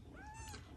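A kitten gives one short, high, rising-then-falling meow, close and fairly quiet over a faint room background.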